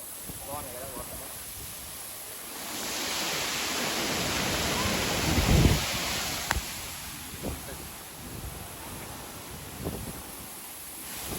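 Near the Lonavala waterfall, a broad, steady rush of falling water swells in after a few seconds and holds. Scattered knocks and faint voices sit over it in the rain.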